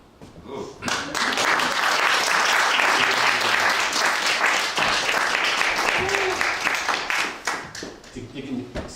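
Audience applause at a poetry reading in Chinatown, loud dense clapping that swells quickly, holds steady and then thins out toward the end, with a few voices cheering within it.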